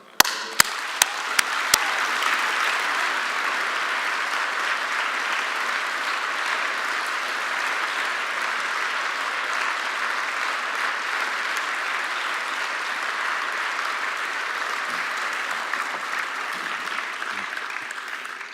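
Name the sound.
audience applause for Ralph Nader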